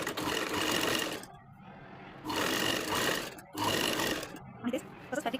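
Sewing machine double-stitching the lining of a small girl's skirt, three close bursts of rapid mechanical whirring separated by short pauses, ending in a few quick stitches, with no talk.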